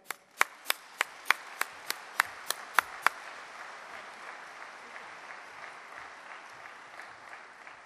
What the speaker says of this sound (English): Please give him a welcoming hand.